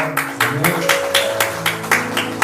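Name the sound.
congregation applause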